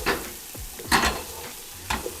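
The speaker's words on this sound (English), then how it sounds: "Give it a good stir." Spoon scraping and stirring toasted almonds into an apple stuffing mixture in a bowl, a few close, soft strokes with light crunching and shuffling.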